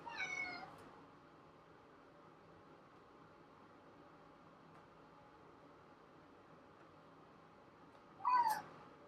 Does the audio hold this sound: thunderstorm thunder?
no